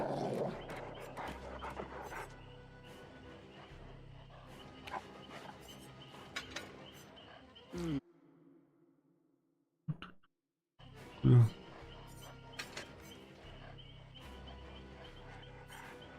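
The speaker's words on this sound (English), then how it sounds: "The goddamn barking, I can't handle it." A hound barks repeatedly in the video game Dead by Daylight, the Houndmaster's dog yapping and panting in bursts over game ambience, with a brief near-silent gap partway through.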